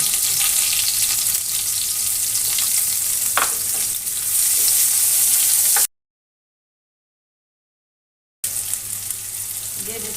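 Chopped onion with two bay leaves hitting hot oil in a pan, a loud continuous sizzle with stirring scrapes and a brief clatter, cutting out to silence for a few seconds before the frying resumes.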